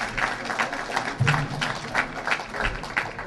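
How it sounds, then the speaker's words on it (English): Applause at a Côte d'Ivoire salon event in Los Angeles, honoring Honorable Horton: a steady wash of clapping from a crowd, moderately loud and continuous throughout. "Applause for Honorable Horton."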